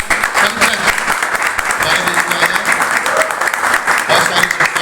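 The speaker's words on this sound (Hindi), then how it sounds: "सबसे पहले हम पंकज का वेलकम करेंगे तालियों के साथ" An audience bursts into steady, dense applause to welcome a guest at a birthday celebration marking one year of recovery, clapping loud and close throughout.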